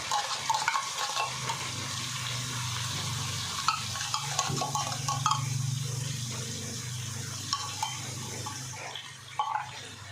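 Canned corned beef and onions stirred in a frying pan, a steady sizzle with scraping utensil strokes against the pan throughout, close and moderately loud with no talking.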